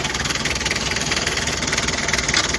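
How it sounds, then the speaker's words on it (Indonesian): Mitsubishi Kuda 2500 diesel engine idling up close, a steady loud clattering rumble with a rapid even knock throughout and no talk. "Ini mesin diesel 2500."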